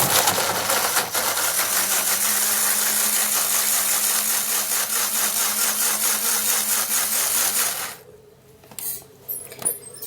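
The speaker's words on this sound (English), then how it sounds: "for now I'm not going to be grating, I'm going to be blending." A blender whirs steadily, blending tomato and other ingredients for a homemade face remedy, a loud continuous motor drone lasting about eight seconds before switching off, followed by a few faint clunks.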